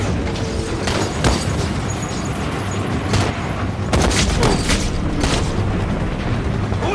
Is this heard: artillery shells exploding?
yes